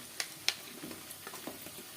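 Pumpkin pieces dropped into a pan of frying potatoes for an Assamese duck curry: two sharp clattering drops followed by low, steady sizzling and soft stirring scrapes.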